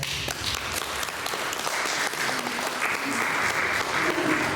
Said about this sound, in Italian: Un applauso a Francesco